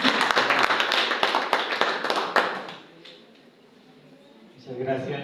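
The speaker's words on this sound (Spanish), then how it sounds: "le regalo un fuerte aplauso a él" Church congregation applauding a guest preacher, a burst of dense clapping that fades after about three seconds into quiet murmur before a voice begins.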